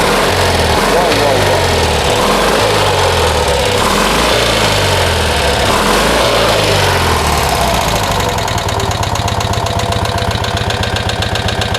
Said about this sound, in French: on va démarrer le moteur pour voir ce que ça donne